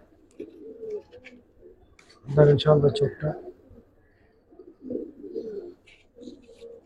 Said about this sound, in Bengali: পুরান জাতের কবুতর গুলো একটু দুষ্ট আকৃতি হয়